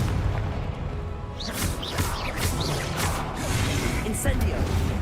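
Confringo blasting spells fire during combat in Hogwarts Legacy, heard as booming, crashing impacts and whooshes layered over constant game noise, with a shouting voice over the effects.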